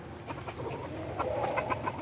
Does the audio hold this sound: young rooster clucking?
yes